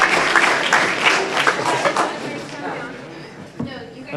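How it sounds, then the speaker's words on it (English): A county commissioners meeting in Montgomery County: a room of attendees claps for a group called up for a photo, a dense burst of applause for about two seconds that thins out, with scattered voices carrying on afterward. "let's give them all a round of applause"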